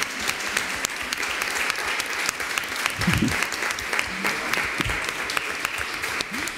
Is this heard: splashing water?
no